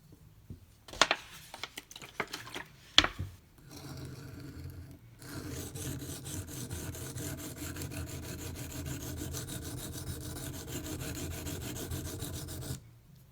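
Microtech UTX-70 knife blade sharpened on Venev pocket diamond stones, a few sharp scraping strokes followed by a long steady run of close rhythmic rasping and rubbing.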